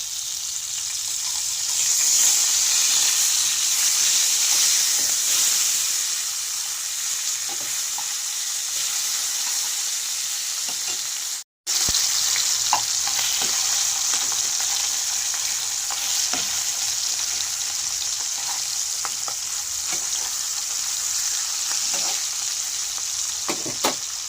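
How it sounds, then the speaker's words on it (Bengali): Boal fish frying in oil under a lid, a loud continuous hiss and crackle close by that runs unbroken except for one brief cut, with faint spatters and no talk. "এবার আমি মাছগুলোকে ঢাকা দিয়ে ভাজবো, নাহলে মাছগুলো ফাটবে"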